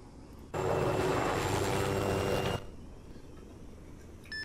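A helicopter in the military video game Arma 3 takes off, a sudden loud roar of rotor and turbine that holds for about two seconds and then drops away to a low background hum.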